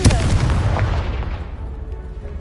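A Confringo blasting spell in the Hogwarts Legacy video game erupts in a loud, booming explosion that rolls on with rumbling debris and a long decaying tail.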